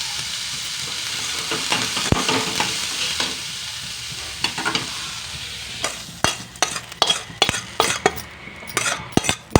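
A fried mung bean mixture is stirred into dosa batter, with soft sizzling early on giving way to a run of sharp, close spoon-and-vessel clinks and scrapes that grow busier toward the end.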